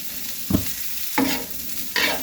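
A vegetable resembling onion is sautéed in a hot pan, with three sharp sizzling bursts as it is stirred and tossed, over a constant low frying hiss.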